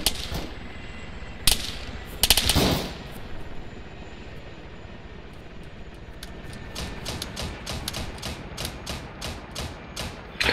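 Gunfire in the military shooter game Arma 3, a few loud cracks early on, then a rapid run of distant shots over a constant low rumble like aircraft engines.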